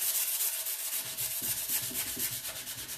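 Sandpaper rubs by hand across a painted wooden crate in steady back-and-forth strokes, close and fairly loud, with a brief quieter pause near the start and no voices.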